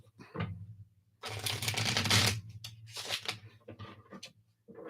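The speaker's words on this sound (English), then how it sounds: "let me just shuffle these up" Tarot cards are shuffled in quick riffling bursts, a long crisp flutter followed by shorter snaps and taps, close and clear.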